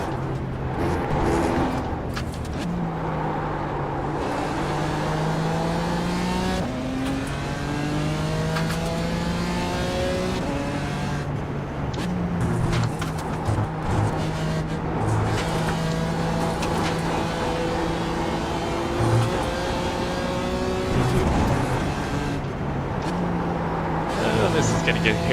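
Mazda Miata race car engines in the iRacing game at VIR whine and rev continuously, rising and falling through gear changes as several cars run close together, with a spotter and driver talking over the engine noise.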